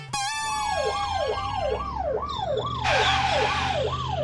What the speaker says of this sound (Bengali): এই গাড়ি চলে এসেছে। এই প্রথম দেখলাম অ্যাম্বুলেন্স থেকে পেশেন্ট পার্টির এত আনন্দ।